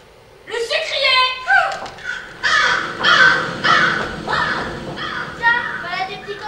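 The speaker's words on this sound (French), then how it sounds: "Tiens, voilà des petits copains, des corbeaux." Several crows caw loudly and repeatedly in overlapping harsh calls, close by, with voices talking beneath them.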